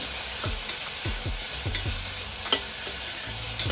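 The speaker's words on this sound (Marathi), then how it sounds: "परत हलवून घ्यायचा थोडासा" Tomato and curry leaves with onion frying in oil as a drumstick and potato bhaji is cooked, with a steady sizzle and a series of sharp, repeated spatula scrapes against the pan, close and clear, no talk.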